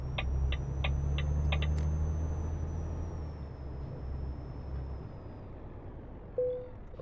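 A heavy truck in Euro Truck Simulator 2 pulls away with a steady low diesel drone that gradually fades, with a few light ticks early on and a brief hiss near the end.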